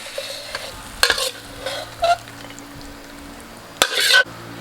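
Fried sea bass in curry sauce is stirred in a pan, giving a few separate scraping and clattering bursts over a low sizzle.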